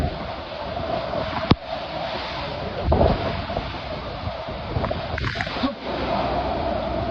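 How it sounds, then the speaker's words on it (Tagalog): Strong wind roars steadily and buffets the microphone with a constant rushing noise, and a faint voice can be heard in between. "Tagpak na tayo ng hangin, oh."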